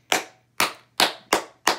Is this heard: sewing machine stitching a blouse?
no